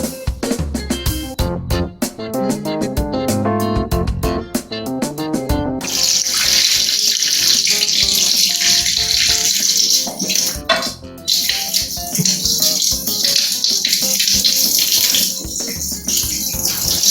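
Water gushes through a garden hose joined with a plastic connector, first a few seconds of clattering, tonal plastic rattling, then a loud, steady rushing spray that continues to the end with no talk.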